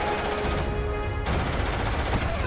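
Rapid gunfire from the sci-fi game Starfield strikes the player from behind, a dense, continuous burst of shots with steady loudness throughout.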